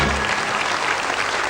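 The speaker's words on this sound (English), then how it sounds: "Give them a nice round of applause, two lovely ladies" A TV game show studio audience on Bullseye claps for two contestants, a loud, even burst of applause that runs steadily through the short moment.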